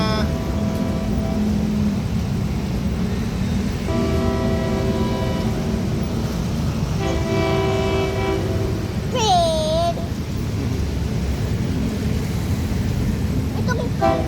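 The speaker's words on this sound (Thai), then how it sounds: "รถไฟมาแล้วนะ" A train arriving at Wutthakan railway station in the evening rumbles steadily, loud and continuous, with several long horn-like tones sounding over it and a brief rising whistle near the end.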